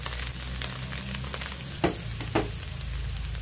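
Eggplant frying in a pan until browned: a steady close sizzle hisses throughout, with a couple of brief stirring scrapes and no talking.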